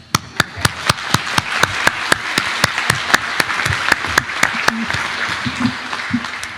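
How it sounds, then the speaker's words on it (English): A high school graduation audience applauds a teacher, a steady wash of crowd applause with sharp, evenly spaced loud claps from one clapper close by cutting through it. "Let's give a round of applause to Mr. McClure for reading every one of those emails."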